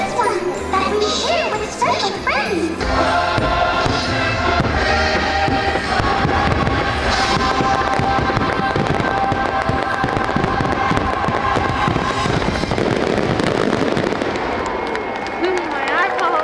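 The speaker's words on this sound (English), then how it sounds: "We just watched the fireworks show." A fireworks show at Disney's Mickey's Very Merry Christmas Party fills the air with continuous loud bangs and crackles over a dense bed of music and crowd noise.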